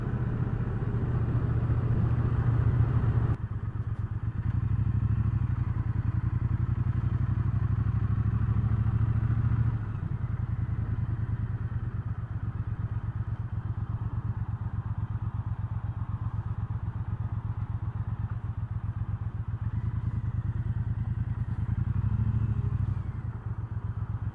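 A 2019 Triumph Speedmaster 1200 motorcycle being ridden, its engine giving a steady, low, throbbing drone with wind rush throughout, close and continuous with slight changes in pace.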